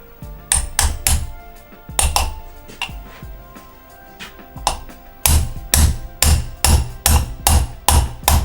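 A 1-inch socket taps a part into a Yamaha XT 500 spoke wheel during a rebuild, giving sharp metallic knocks, first in scattered pairs and then as a steady, evenly spaced run of louder hits.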